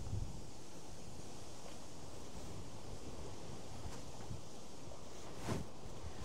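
Strong wind gusting outdoors, a steady broad roar buffeting the microphone throughout, with a brief louder gust near the end and no talking.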